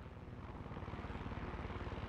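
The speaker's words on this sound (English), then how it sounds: "There's an enemy chopper creeping the skies nearby." An enemy helicopter in the video game Far Cry 6 flies nearby, its rotor producing a steady, fast rhythmic thumping over a dense engine rumble, fairly close and sustained throughout.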